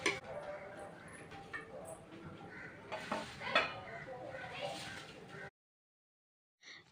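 Vegetable pulao rice being stirred in a pot, with repeated scraping and clinking of a spoon against the metal over a steady background, stopping abruptly before a brief silence and a faint final knock.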